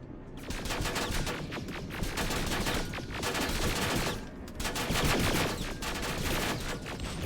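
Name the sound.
automated turrets firing guns in video game Terminator: Resistance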